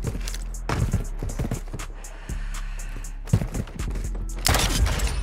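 Long-range pistol fire in a shooter game: a rapid series of sharp, close gunshots in irregular clusters, separated by a short lull, with no talk.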